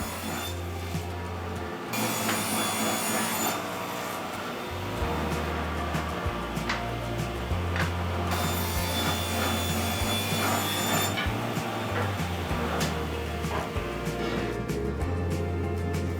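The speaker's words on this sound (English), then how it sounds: "I run over to the table saw to do basically the same thing. I'm looking for a rough width" A table saw rips wood to a rough width, a loud steady cutting drone that runs almost continuously with brief drops between passes and no talking.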